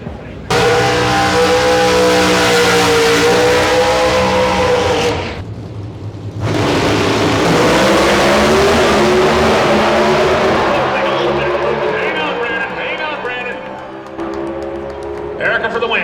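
NHRA drag racing cars roar through a run at full throttle, a loud sustained engine blast that briefly drops off before surging again, with an announcer talking over the noise.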